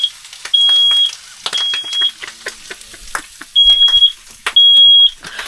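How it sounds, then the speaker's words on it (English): A smoke alarm goes off, sending out loud, piercing high-pitched beeps in short bursts at irregular intervals, with clattering kitchen noises in the gaps between them. "I better sort that out before the smoke alarm goes off."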